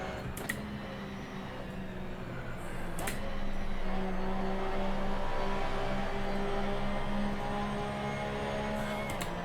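A race car in Assetto Corsa, an online league race, drones along at moderate volume with a steady engine tone, rising slightly in intensity partway through as it heads into the last corner in fifth gear.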